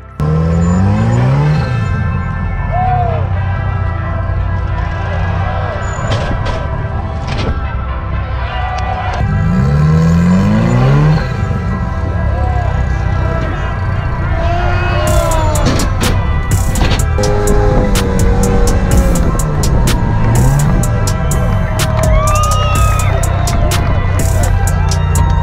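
An off-road buggy races and rolls over, its engine revving and droning loudly with rising and falling pitch, followed by rattling clatter and impacts as it tumbles.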